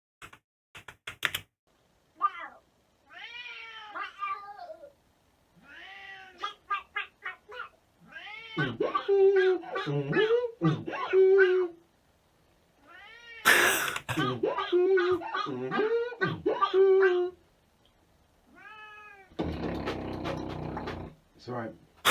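A beatboxer imitates a cat with a string of short, nasal vocal meows and clicks, delivered in quick bursts separated by pauses, ending with a breathy noisy blast.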